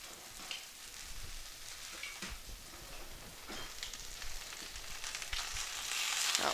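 Pork chops sear in a cast iron pan with a steady, close sizzle and spatter that swells slightly toward the end; no one speaks.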